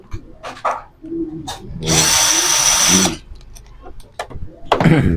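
A power drill whirs loudly for about a second while backing out screws from an electric fan under repair, bracketed by handling knocks and rubbing of parts.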